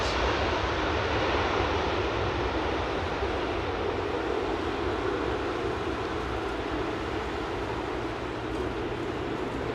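An Airbus A330 airliner at London Heathrow Airport, a loud, continuous broadband jet roar that holds steady throughout, close and unbroken, with no voices.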